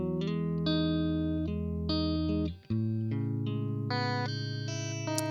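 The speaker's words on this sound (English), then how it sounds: "this is the loop in its raw form." A raw music loop plays back at its original pitch, a dense sustained synth-like sound with layered tones and shifting chords and one brief dropout partway through. It is steady and moderately loud.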